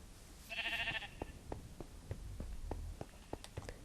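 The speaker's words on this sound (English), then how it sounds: "Sheep are taunting me." A Minecraft sheep gives a single short, nasal bleat, followed by soft scattered clicks and thumps of in-game movement, all fairly quiet.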